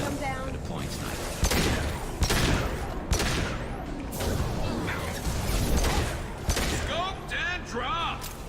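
Heavy sniper rifle shots in the sci-fi shooter Mass Effect 2, several sharp loud cracks spaced a second or two apart over busy combat noise, with voices talking throughout.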